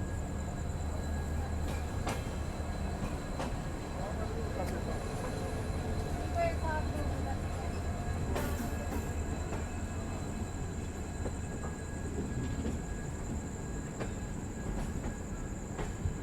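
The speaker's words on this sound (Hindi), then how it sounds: "डिपार्ट ले रही है जम्मू तवी रेलवे स्टेशन से" The Shri Shakti AC Express pulls out of Jammu Tawi railway station at night: a steady rumble of rolling rail cars with scattered wheel clicks and occasional high squeals, fairly close, with faint voices in the background.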